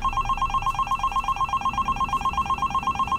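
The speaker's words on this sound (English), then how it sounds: "Huh? A phone?" Telephone ringing in an animated movie, a steady electronic ring repeating in fast pulses throughout, loud and alone with no talk.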